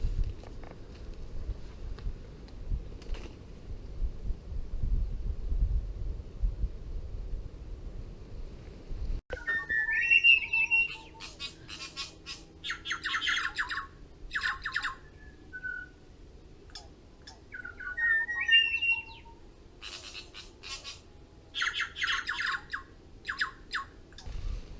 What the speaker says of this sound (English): It's a mutton bird there.